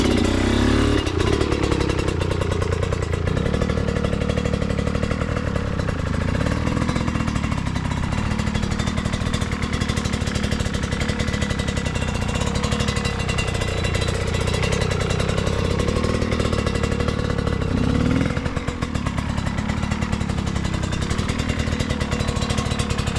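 A motorcycle is ridden during rider training, its engine running loud and steady throughout with a rough, clattering drone and slight shifts in pitch, with no one talking.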